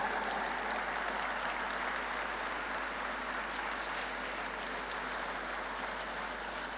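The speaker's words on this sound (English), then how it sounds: "A big applause to him." Students in an audience clapping steadily for a speaker at a naturopathy day celebration, a dense, even wash of applause heard somewhat distant and fairly quiet, sustained without voices.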